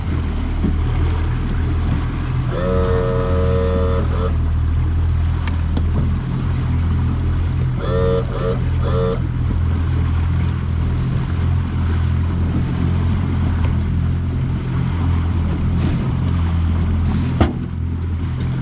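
Steady small motorboat engine drone over rushing rough Arctic water and wind, with a few brief tonal beeps partway through.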